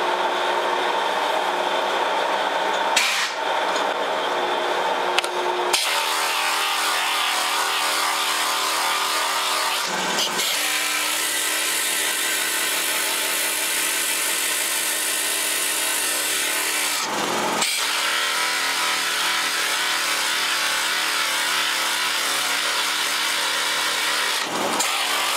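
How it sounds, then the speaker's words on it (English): A power sander runs steadily on the wooden body of a Telecaster guitar, a loud, continuous whirring buzz with a few brief breaks where it lifts off or pauses, and no one speaking. "Wood in these areas here, so I'll sand that so it kind of gets uniform"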